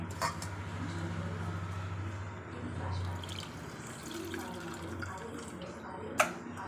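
Tamarind extract poured into a cooking pot while making a Tamil New Year vegetarian dish, a steady liquid splash with low kitchen rumble and a sharp clink near the end.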